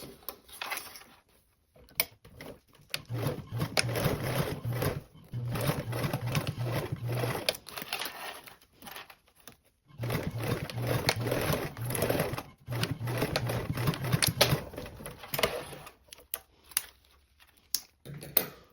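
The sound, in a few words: sewing machine sewing a 3/8 seam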